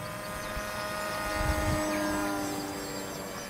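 A Ranger 1600 model airplane flies overhead, its faint propeller drone holding steady and swelling slightly as it passes nearer mid-way.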